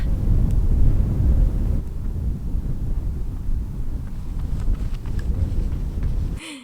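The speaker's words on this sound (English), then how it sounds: "you know it's windy when it blows over your chimney" Heavy desert wind buffets the microphone in low, rumbling gusts that rise and ease for several seconds, ending abruptly.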